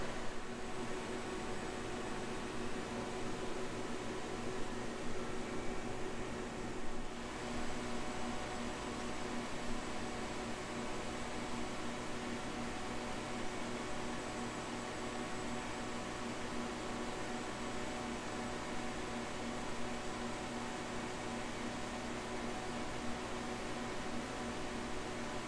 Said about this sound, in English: Connected to a vacuum pump, so we're pulling all of the atmospheric air out of here right now